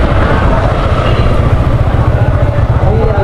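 A motorbike rides along a road, giving a loud, steady engine drone mixed with rushing wind noise that holds constant throughout.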